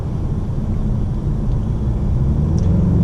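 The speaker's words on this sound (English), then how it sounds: "Turbo kicked in well and got us over it." A 2018-2020 Mazda 6 Grand Touring Reserve turbo engine pulls up a slight incline, a loud, steady low rumble of engine and road noise heard from inside the car with no talk.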